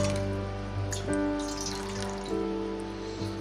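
Water is poured into a dish holding floating ink pen drawings, a continuous close trickle and splash over a low steady hum.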